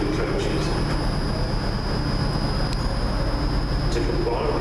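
Two-coach passenger train standing at a station in the Birmingham area, giving a steady, close rumble of idling engine and hum with a high whine over it, continuous throughout, with faint announcement-like voices.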